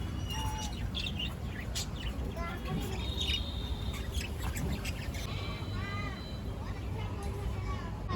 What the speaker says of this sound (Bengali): ক্যান্টিনের কাছে যেতেই এই পাখিগুলো নজরে পড়ল।